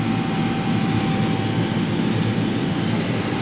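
A forage chopper runs steadily on a farm, giving a loud, unbroken mechanical drone with a constant whine throughout and no pauses.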